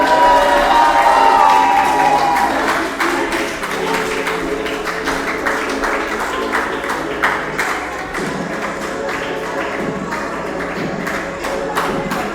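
A live pro wrestling crowd cheers and claps as a wrestler walks around ringside, a loud roar at first that settles into a steady crowd murmur with scattered claps and thuds.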